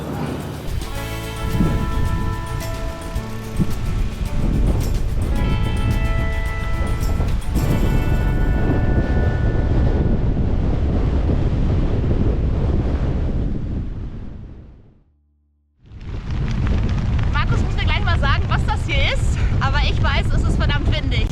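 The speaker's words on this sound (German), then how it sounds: "der Wind kommt so ein bisschen von rechts" Steady wind from the right buffets the microphone with a low rumble while cycling along the Elbe near Hamburg, broken by a brief near-silent gap, while music-like tones and a voice run underneath.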